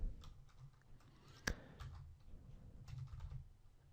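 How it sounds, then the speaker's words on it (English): Quiet, close typing on a computer keyboard: a loose run of soft key clicks with one sharper tap near the middle, with no talking. "So I'm going to type"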